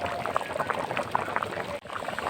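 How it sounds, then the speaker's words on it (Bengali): Lentils with catla fish head bubbling in a pot, a busy burbling boil with soft pops, close and steady for a couple of seconds. "এখানে ডালটা ফুটছে"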